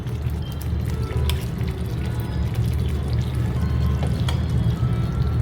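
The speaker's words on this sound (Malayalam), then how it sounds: "ഇനി ഇതിലേക്ക് നമ്മളുടെ ഈ പനീർ ഇതിലേക്ക് ഇടുക." Paneer cubes dropped into a pan of ghee roast masala, frying with a steady close sizzle and a soft bubbling hiss that continues unbroken throughout.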